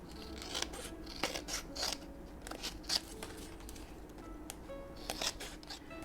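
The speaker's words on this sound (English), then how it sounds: "I'm going to have to trim around these" Scissors snip repeatedly while trimming around paper ephemera pieces, a series of sharp close cuts at an uneven pace with brief pauses and soft paper rustling between them.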